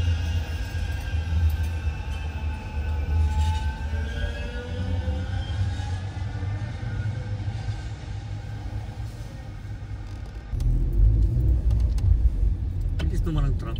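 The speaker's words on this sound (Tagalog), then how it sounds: "Tram na naman dumadaan, no?" Street traffic in Manchester city centre as a tram passes, a continuous low rumble of vehicles and motors with a heavier surge toward the end, heard close by from the roadside.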